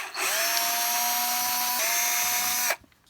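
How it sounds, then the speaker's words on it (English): Cordless drill spinning out a 2.5 mm screw on an Arrma Kraton EXB RC truck, one close, loud burst of whirring motor lasting about two and a half seconds, with a brief pitch drop midway before stopping. "We'll do that with the drill."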